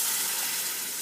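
Chicken and cloves frying in a pan for a Haitian-style chicken dish, a steady bright sizzle that holds evenly throughout, close and without talk.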